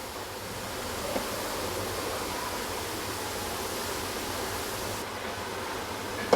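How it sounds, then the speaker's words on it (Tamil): Potato chips deep-fry in oil, a dense even hiss of bubbling that holds steady and moderately quiet throughout, with no voices. "இது நல்லா கிறிஸ்பியாக பொரியட்டும்."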